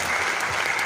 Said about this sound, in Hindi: एक बार सर के लिए जोरदार तालियां होनी चाहिए।